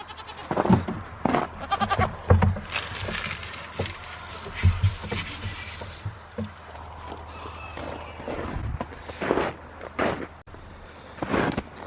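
Several goats bleat repeatedly, some calls loud and close, others overlapping, with shuffling movement and small noises between the cries.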